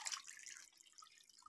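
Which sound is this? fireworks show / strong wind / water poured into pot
water poured into pot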